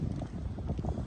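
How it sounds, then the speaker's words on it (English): Wind gusting steadily across a snowy backpacking campsite in the Great Smoky Mountains, a low rumbling rush with buffeting on the microphone, continuous and fairly close with no talking. "It's getting pretty windy."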